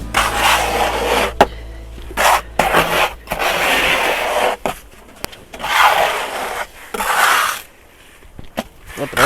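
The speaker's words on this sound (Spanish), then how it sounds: "Estamos raspando lo que es al ras." Cement is scraped flush on a homemade cement flower pot, producing loud, close, gritty rasping strokes in several long passes separated by short pauses.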